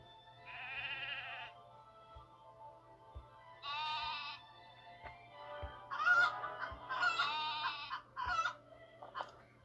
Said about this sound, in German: Ist das Huhn? Können wir das kriegen?